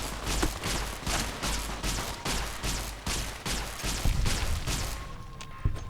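Rapid automatic gunfire in Fallout New Vegas, a steady run of about a dozen evenly spaced shots at moderate loudness, ending in a short quieter tail.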